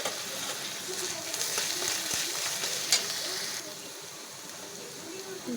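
Ground spices with salt, turmeric, dried chilli, coriander and cumin powder stir-fried in a pan make a close, steady sizzle with scraping stirs and a couple of sharp taps, easing slightly toward the end.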